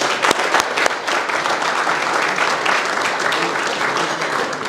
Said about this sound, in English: So a round of applause for Dave and the guys.